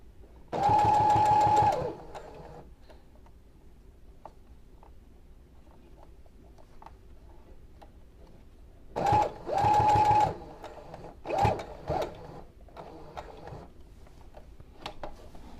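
A sewing machine stitches a fabric strip for a baby's pillowcase dress in three separate bursts. The first is long, and two shorter runs follow after a quiet pause with faint handling noises. Each burst is a loud, close, rapid mechanical chatter.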